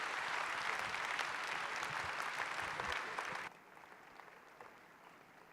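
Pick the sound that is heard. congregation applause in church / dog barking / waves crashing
congregation applause in church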